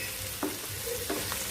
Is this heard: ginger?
yes